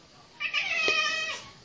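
A cat meows once, a clear, drawn-out meow heard close by and alone indoors, after it has just come in the back door carrying something.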